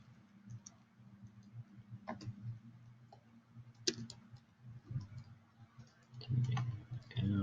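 Slow, irregular key clicks on a computer keyboard during Dvorak layout practice, scattered single taps with pauses between, close and fairly quiet over a low steady hum.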